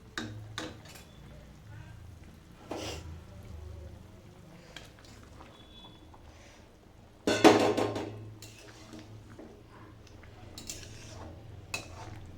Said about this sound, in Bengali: এই যে এবার আমি ডিমটা ছেড়ে দেবো